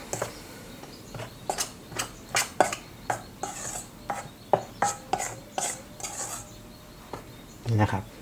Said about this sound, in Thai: ที่จงใส่พริกไทยป่นไปตอนนี้เลยเพราะว่าเราจะไปคนให้มันเข้ากันดีกับเจ้าตัวแป้งครับ